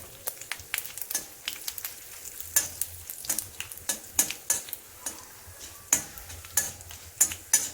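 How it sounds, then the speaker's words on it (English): Mustard seeds and cumin spluttering in hot oil for a karela leaf curry, rapid irregular pops and crackles over a low sizzle, close and sharp, no talking. "So you can hear that it's spluttering now"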